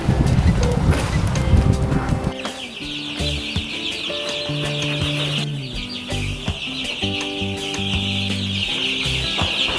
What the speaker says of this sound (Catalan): Aquí els pollastres de Can Pep Julià